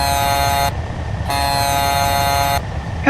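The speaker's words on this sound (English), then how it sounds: "And of course we make up for it with the generic horn." A generic truck horn in a driving video game sounds two loud, long, brassy blasts with a short gap between them, with nothing else over it.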